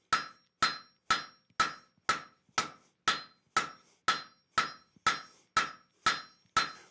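A hammer strikes a hot steel bar on an anvil as the bar is turned a quarter turn between blows, giving a dozen sharp, ringing clangs at an even, steady rhythm, each decaying briefly before the next.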